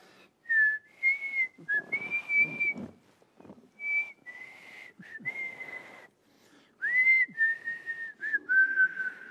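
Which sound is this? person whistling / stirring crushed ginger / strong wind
person whistling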